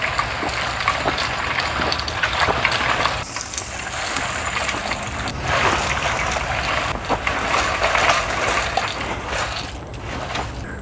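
Earthway push seeder rolled along garden soil, its mechanism giving a continuous gritty grinding and rattling with irregular clicks, close and fairly loud, with no talking.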